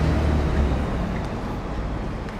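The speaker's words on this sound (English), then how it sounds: "very noisy here with all the traffic." City street traffic with buses in Palma de Mallorca makes a dense, steady roadway rumble. Low engine drone dominates throughout, with no clear speech.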